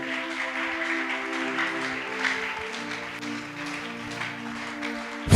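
A church congregation at a deliverance service bursts into sustained applause and cheering in praise of God, a dense continuous wash of clapping that carries on over a steady tonal musical backing.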